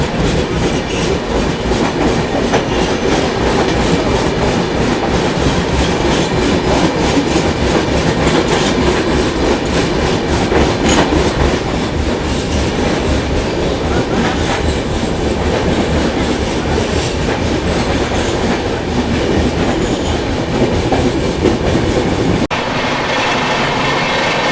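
The Nanded-Amritsar Sachkhand Express runs on the tracks with a loud, continuous roar of wheels and a rapid rhythmic clickety-clack, heard close up for the whole stretch with no voices.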